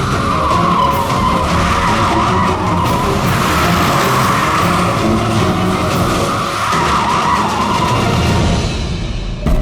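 A car skids on the road after a rear tyre problem, its tyres squealing loudly and continuously for several seconds under steady engine roar, with no talk.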